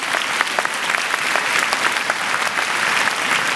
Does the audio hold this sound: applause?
yes